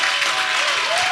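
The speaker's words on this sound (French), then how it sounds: "j'aimerais ça qu'on donne une bonne main d'applaudissement à Yann Terriot" Audience applauding comedian Yann Thériault, a dense, steady burst of clapping from a crowd that fills the whole moment at full volume.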